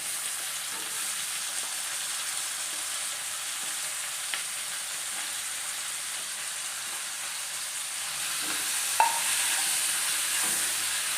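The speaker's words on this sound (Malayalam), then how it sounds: "എണ്ണ ഇവിടെ ചൂടായി വന്നിട്ടുണ്ടെങ്കിൽ നമുക്ക് ഇതിലേക്ക് അരിഞ്ഞ് വെച്ചിട്ട് ഉള്ളി, തക്കാളി, സവാള, പച്ചമുളക് എല്ലാം ഇട്ട് കൊടുക്കാം" Chopped onions, shallots, tomatoes and green chillies sizzling in hot oil for Kerala-style beef curry, a steady close frying hiss with occasional faint pops and stirring scrapes, no talking.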